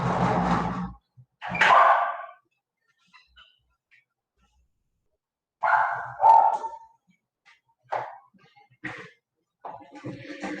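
Female dog barking indoors during a lesson, sharp barks in separate bursts with long quiet gaps between them, fairly close and loud.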